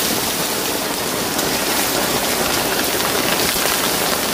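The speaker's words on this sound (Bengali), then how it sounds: "বন্ধুরা প্রচুর নামছে বৃষ্টি।" Heavy rain pours down in a dense, even roar of drops striking surfaces, loud and unbroken from start to finish with no voices.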